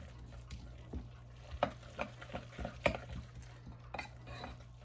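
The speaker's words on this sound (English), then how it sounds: "I'm going to add that bit of moisture along with the raisins and stir that up." A spoon stirs soaked raisins into bran muffin batter in a bowl, making soft, quiet scrapes and occasional light clinks at an uneven pace.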